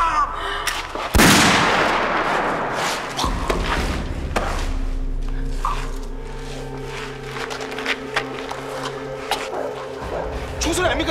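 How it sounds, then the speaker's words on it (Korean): A sharp loud blast rings out in a TV drama scene, followed by distant thuds and rumbling gunfire under a low droning background. "총소리 아닙니까 이거?"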